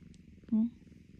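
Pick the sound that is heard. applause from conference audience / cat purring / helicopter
cat purring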